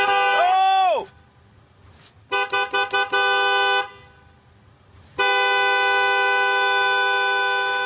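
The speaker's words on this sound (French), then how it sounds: "Le doux bruit du klaxon qui rappelle à beaucoup le stress de la rentrée" Car horn honking loudly and close: a long blare that drops off, a quick series of short toots, a sustained honk, then another long continuous blast.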